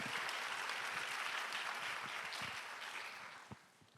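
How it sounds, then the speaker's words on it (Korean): At a university-group summer retreat revival service, an audience gives a pastor a welcoming round of applause: a full, steady clapping that fades toward the end, quite soft overall, with a single sharper knock near the close. "우리 박수로 모시겠습니다."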